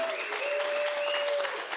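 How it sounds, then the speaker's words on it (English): An audience at a live podcast event at a motorcycle venue applauds Dakar rally motorcycle entrants, a steady even wash of clapping with a faint tonal sound running through it. "please give them a massive round of applause to Lel Pavey of Brake Magazine"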